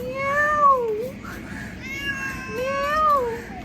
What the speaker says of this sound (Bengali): ওই দেখ ক্যাট, ক্যাটও আসছে